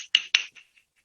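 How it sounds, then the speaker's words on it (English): Aboriginal clap sticks tapped a few times while being tuned, two sharp clear knocks followed by softer, fading taps, close and alone with no talk. "I'm just going to tune up my clap sticks."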